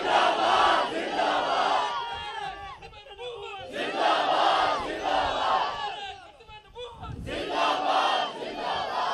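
A crowd at a religious gathering chants a slogan in unison, loud, rhythmic surges of many voices rising and falling in repeated bursts with brief dips between them.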